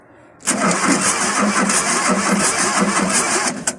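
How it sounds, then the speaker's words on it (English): A rear engine cranks on a remote starter with a weak battery, a loud close run of rapid, evenly pulsing churns for about three seconds without catching. "I've got a remote starter on at the moment to try to kick it over, but it may go, but I think the battery will be pretty much dead."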